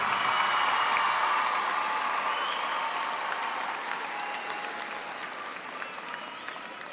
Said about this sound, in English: and all of you should applaud him.